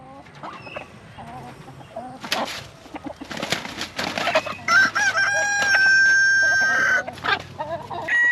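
Chickens cluck and squawk around a rooster that crows loudly, its long call ringing out clearly near the end amid the scuffle of the birds.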